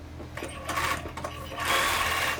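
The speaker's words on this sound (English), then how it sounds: "I'm just going to come over here now and top stitch this on, not at a 1/4 inch, more like at an 1/8 of an inch." A sewing machine runs in short bursts while top stitching the edge of a fabric Japanese knot bag, with a faster whirring run near the end, close and fairly quiet.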